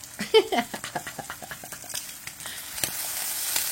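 Thick cut hickory smoked bacon crackling in a pan, sharp irregular pops at first settling into a steady close sizzle.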